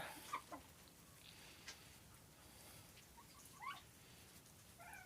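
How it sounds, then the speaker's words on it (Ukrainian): A broody hen sitting on eggs clucks softly a few times in short, low murmurs against a quiet background hiss, with no speech. "Ось вона так куркає собі."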